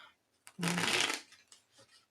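A deck of tarot cards being shuffled, with one quick riffling flutter lasting about half a second, close and fairly quiet, followed by a few soft card taps.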